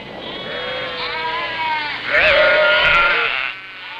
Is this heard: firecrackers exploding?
no